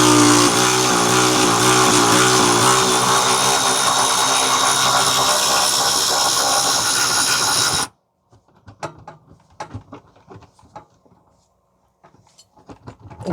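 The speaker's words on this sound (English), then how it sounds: "Use a electronic ratchet to get this out." An electric ratchet buzzes loud and steady for about eight seconds while backing a bolt out of the rear differential mount bracket on a 2015 Toyota Sienna 3.5 V6 AWD. It then cuts off, leaving scattered metallic clicks and clanks of a socket being worked free.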